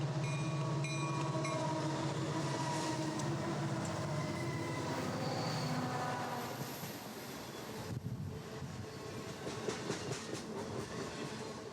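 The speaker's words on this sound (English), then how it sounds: "This empty coal train rolling through Odlum has little choice but to head east on CP's Cascade sub to North Bend." An empty coal train rolls along a Canadian Pacific line through the Fraser canyon, a loud, close, continuous rumble and clatter of wheels and wagons that eases slightly toward the end.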